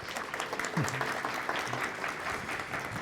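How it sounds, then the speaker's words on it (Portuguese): Audience at the Diálogos Supera internal communication benchmarking event claps for a speaker being called up, soft scattered applause lasting about three seconds, with a brief voice heard faintly through it. "Palmas para a Sofia, gente."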